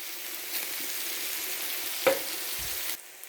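Meat frying in a pan for a Portuguese wokke, giving a steady close hiss with a sharp clack of a utensil near the end before the sizzle cuts off abruptly.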